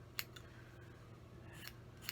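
A few crisp scissor snips, quiet and close, spaced irregularly over a faint background hum.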